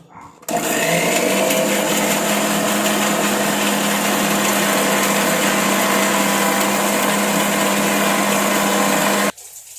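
A kitchen mixer grinder runs steadily for about nine seconds, grinding plant roots with a little water into a paste for hair growth oil. The motor whine is loud and close, starting and stopping abruptly, with no talk.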